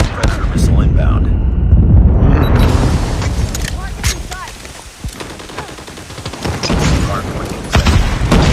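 Heavy explosion and rolling boom from a predator missile strike in a Call of Duty hardpoint match, followed by dense gunfire bursts and scattered shots, with game voice callouts over the loud chaotic mix.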